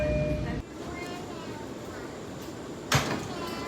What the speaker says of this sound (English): we just got the C train at 72nd Street